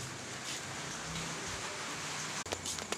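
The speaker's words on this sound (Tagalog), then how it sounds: "Umuulan na." Steady, soft rain falling outdoors, a continuous hiss with faint patters, fairly quiet, and a brief clatter near the end.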